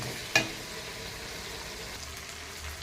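Spice paste fries in oil with a soft, steady sizzle and a single sharp clink near the start, quiet and close, with no talking.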